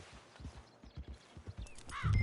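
Horse hooves clip-clopping in a PS4 video game, a brisk run of close, regular hoof thuds ending in a short whinny-like burst.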